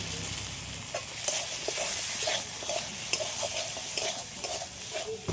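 A stuffing of chhana and fried jackfruit seeds sautés in oil in a pan, with a steady close sizzle and regular scraping stirs of a spatula throughout.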